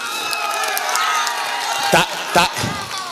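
A crowd at an outdoor political rally in India claps and cheers in a dense, continuous wash of sound while a speaker's voice carries over it.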